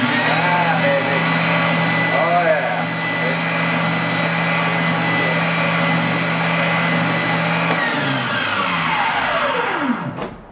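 A Ryobi oscillating sander runs with a steady, loud motor whine and hum, then its pitch drops sharply as it winds down and stops at the end.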